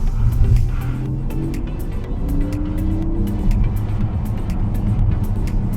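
A 2025 Porsche Macan EV Turbo electric car coasts through a hard, heavy turn around a roundabout with no gas or brake, giving a steady low road and tire rumble with faint whining tones throughout, close and continuous.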